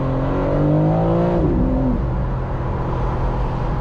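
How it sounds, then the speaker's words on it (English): A powerful AMG-type performance car engine revs up while driving, a rising harmonic roar that peaks and then drops back to a steady low hum, loud and close from inside the cabin. "This engine is absolutely powerful."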